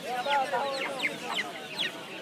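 A rooster clucks and calls in quick, repeated bursts amid the chatter of a Saturday bird market at Putia, with voices nearby.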